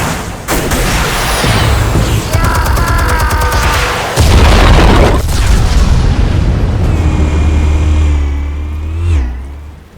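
Explosives detonate in the video game Batman: The Telltale Series: two loud, heavy booms with rolling rumble, followed by a roaring, engine-like swell and ringing tonal layers that fade at the end.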